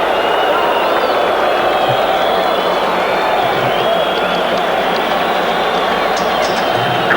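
Stadium crowd at a 1989 Under-20 World Cup final football match between Portugal and Nigeria, a steady dense roar of cheering and applause filling the whole stretch at a loud, even level.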